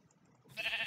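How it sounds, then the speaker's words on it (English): Minecraft sheep bleating in a short, bright burst that starts midway and holds steady to the end, fairly loud against a quiet background. "Let's kill this sheep."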